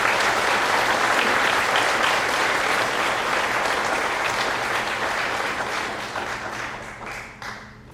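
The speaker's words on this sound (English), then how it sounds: "Ladies and gentlemen, a round of applause for our work on the student service." Audience at a high school senior awards night applauding warmly, a dense, sustained wash of clapping that slowly thins and fades toward the end, with no speech over it.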